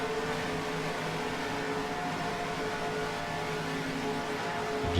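Engines of a full field of AI stock cars in the NR2003 racing game blend into a steady, dense droning whir that holds constant at high RPM, with a faint phasing shimmer across the pack.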